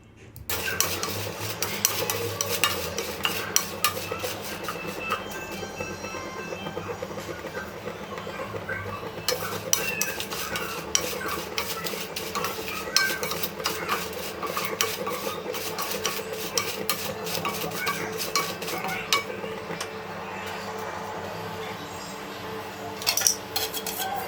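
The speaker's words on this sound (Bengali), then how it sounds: "হালকা তাপে একটু সময় নিয়ে মরিচগুলোকে সুন্দরভাবে নেড়ে চেড়ে এভাবে টেলে নিতে হবে" Whole chillies dry-roasted in a pan over low heat, stirred and tossed: steady rasping and scraping of a utensil against the pan, with light rattling clatter throughout.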